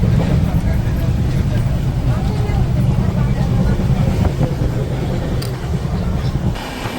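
A train standing at Sakleshpur railway station during an engine change gives a continuous low rumble and hiss, with people talking close by over it.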